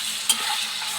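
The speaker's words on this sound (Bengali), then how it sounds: "টমেটোটা হালকা করে ভেজে নিয়ে" Chopped tomatoes frying lightly in a pan for a spiced pabda fish curry, a steady close sizzle with a brief stirring scrape near the start and no talk.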